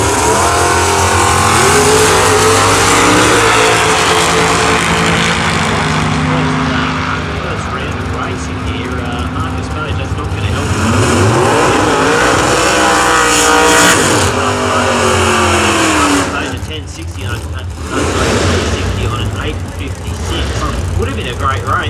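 Drag racing cars, a hot rod and a Torana, accelerate hard at a nostalgia drags meeting, a loud sustained engine roar rising and shifting over about twenty seconds while a commentator talks over it.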